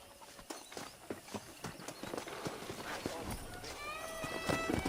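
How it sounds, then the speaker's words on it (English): A herd of wild horses in the Western video game Red Dead Redemption, with hooves clip-clopping in uneven bursts and a neigh near the end, backed by soft ambience and game sounds. "there's a pack of wild horses nearby"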